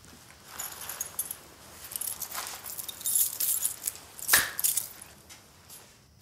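Metallic car keys jingle and clink in a few short bursts, close by and moderately loud, with one sharper clank near the middle.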